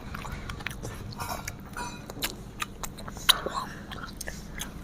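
Biting into and chewing a barbecue chicken leg, with close, moist crunchy bites and chewing in irregular bursts and a few sharp snaps, soft background murmur underneath.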